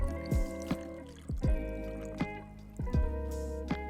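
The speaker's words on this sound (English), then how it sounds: "So I'm gonna pour this onto our crushed ice." Chartreuse cocktail poured onto crushed ice in a julep glass, quiet liquid splashing with several crackling pops and ticks of the ice settling, close and soft.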